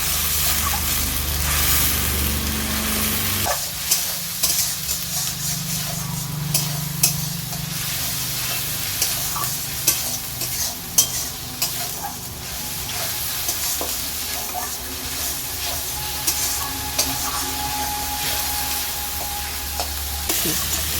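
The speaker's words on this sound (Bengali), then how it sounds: "গোটা গরম মশলার পেঁয়াজ বাটাটাকে আমি দিয়ে ভালো করে এটাকে এবার নাড়তে থাকবো" Onion paste with whole garam masala frying in oil for an egg korma, a steady close sizzle broken by repeated scraping and clacking strokes of a stirring spoon against the pan.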